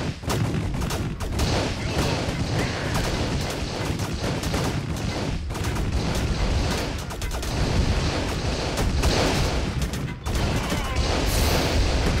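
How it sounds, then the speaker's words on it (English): Dense, loud gunfire in a shooting video game, rapid overlapping shots and bursts going on without a break, with a voice talking faintly underneath. "Oh, I'm getting shot at. I need to shoot back."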